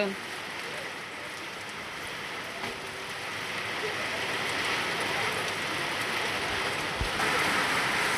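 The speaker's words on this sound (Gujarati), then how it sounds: "જોરદાર વરસાદ પડે છે. અમારે વાવાઝોડું ફૂલ છે." Steady heavy rain pours down during a windstorm, a dense hiss of drops hitting surfaces that swells slightly louder partway through, with no other sounds standing out.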